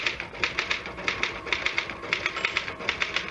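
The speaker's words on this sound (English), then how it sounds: "Just hit the typewriter, Harry." Rapid, uneven clatter of a typewriter's keys, typed quickly and close up in an old radio mystery drama, with short pauses between bursts and no voices.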